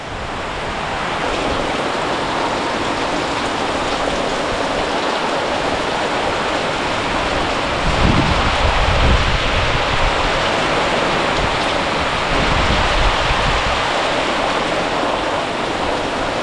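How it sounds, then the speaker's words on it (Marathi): Heavy rain and a windstorm in a village make a continuous broadband roar, with stronger gusting surges partway through and again near the end. "गावाकडे पाऊस येतो तेव्हा काय वाटत नाही, पण असं हे वादळ आलं ना, वादळ बघा किती आहे"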